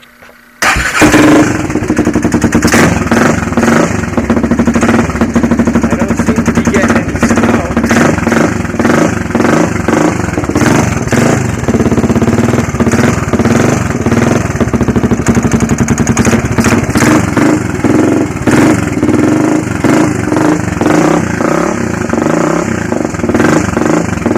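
A Honda 400EX ATV catches on a cold first start and then idles with the choke on, a close, loud, steady thumping single-cylinder beat that carries on for over twenty seconds.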